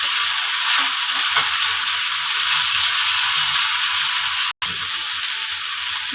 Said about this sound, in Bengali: দিয়ে দিব আদা রসুন বাটা, একটু নেড়ে চেড়ে নিচ্ছি